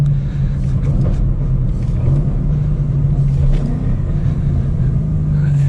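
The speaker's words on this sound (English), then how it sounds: "And a few pops in that exhaust" A Ford Mustang GT with a manual gearbox rumbles steadily and loudly from close by, its deep exhaust drone holding through the whole stretch with faint crackles riding on top and no one talking.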